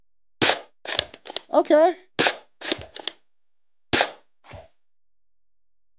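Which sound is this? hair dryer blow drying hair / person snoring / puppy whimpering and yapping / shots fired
shots fired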